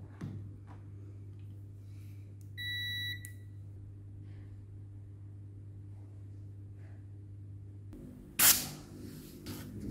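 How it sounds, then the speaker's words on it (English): A multimeter gives one short, clear electronic beep during a diode and continuity test on microwave buttons, heard over a low steady hum, followed later by a brief clatter of handling. "I'm gonna check with my multimeter with this diode and continuity test."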